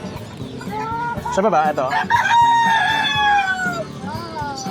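Brahma chickens at a pet market cluck and let out a drawn-out, close crow, with a brief spoken voice mixed in among the birds.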